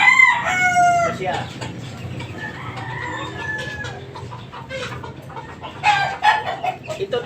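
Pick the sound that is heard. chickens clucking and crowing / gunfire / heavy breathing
chickens clucking and crowing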